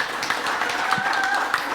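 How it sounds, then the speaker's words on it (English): A small audience gives a short round of applause on a community event stage, brisk overlapping claps lasting under two seconds with a faint tonal whine above them. "How about one more round of applause?"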